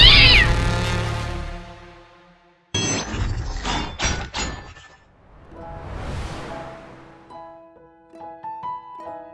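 A cat meows loudly in a drawn-out cry, followed by clattering and clinking noises and a few short ringing tones.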